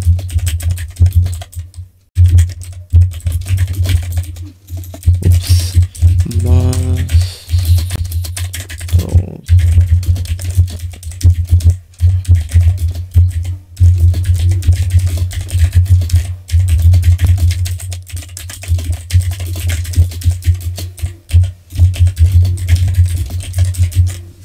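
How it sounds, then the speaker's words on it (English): Rapid typing on a computer keyboard during a Monkeytype speed test, with dense, steady key clatter running nearly unbroken throughout and only a few short pauses. "I want to show you my own typing speed"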